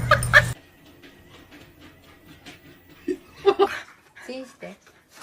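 A dog yips and whimpers from a played video, sharp close barks at the start, then softer whines mixed with chuckling and talking.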